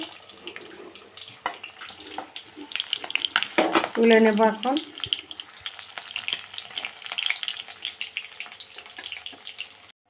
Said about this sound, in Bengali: সবগুলো মাছ আমি এইভাবে ভেজে নেব